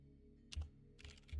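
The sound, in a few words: typing on a computer keyboard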